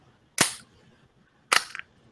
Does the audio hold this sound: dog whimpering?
no